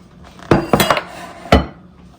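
Ceramic or metal mixing bowl clattering against a kitchen counter during cake baking: three sharp close knocks with ringing clinks between them, no voices.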